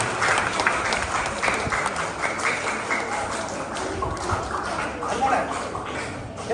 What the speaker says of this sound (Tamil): அவங்க எல்லாருக்கும் ஒரு பலத்தை கைத்தட்டல் கொடுங்க பார்க்கலாம்